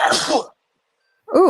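One sharp, loud sneeze bursts out close to the microphone, followed by a short silence before a voice resumes speaking.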